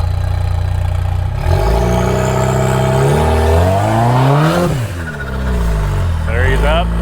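A rock crawling buggy's engine revving hard on a ledge obstacle at Sand Hollow, loud rising and falling revs with pitch sweeps, close and dominant, with voices talking over it.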